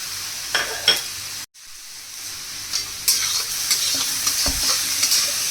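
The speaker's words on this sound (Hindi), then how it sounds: "और चला चला कर हम गोभी को भून लेंगे।" Cauliflower and spice powders are stir-fried over low to medium flame, giving a steady sizzle with scraping strokes and clinks of a spoon against the pan, close and fairly loud, a brief silent gap early on.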